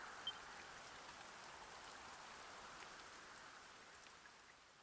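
Steady rain falling in the Dragon Quest 1 HD-2D Remake video game, a constant soft wash of drops on surfaces with occasional faint brighter patters, even and unbroken throughout.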